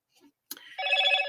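A telephone rings with an incoming call in a garage studio: a short knock, then a close, loud, trilling electronic ring that holds steady to the end.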